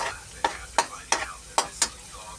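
Garlic sautéing in oil for a mung bean dish, a soft background sizzle broken by five or six quick scraping stirs in an uneven rhythm, close by.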